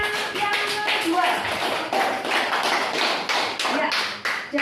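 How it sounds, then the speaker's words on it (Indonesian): A classroom group of students applauds a fellow student group with rapid, dense clapping at close range. A few voices are heard faintly beneath the steady burst of hand claps. "Tepuk tangan untuk Tripras untuk kelompoknya yang kedua"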